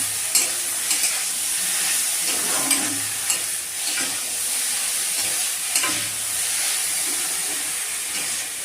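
Carrot halwa being stirred in a pan, a steady close sizzle and hiss with occasional scraping clicks from the stirring spoon, no voices.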